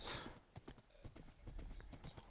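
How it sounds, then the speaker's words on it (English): A horse's hooves clip-clop in a video game, a quick, even run of faint knocks with an occasional soft whinny-like tone at the start. "My horse that I'm never going to use again, so I might as well take out."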